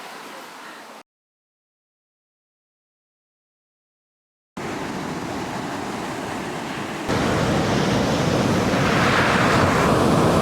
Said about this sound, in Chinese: 没想到浪可大了